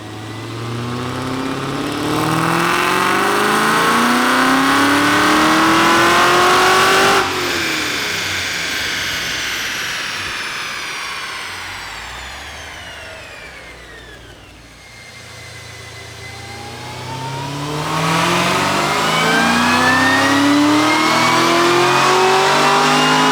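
Modified Hellcat V8 with new cam, heat exchanger, 5-inch intake and injectors revving hard on a test run, climbing in pitch, dropping back, then surging again, loud and close.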